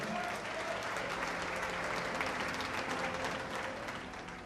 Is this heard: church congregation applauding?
yes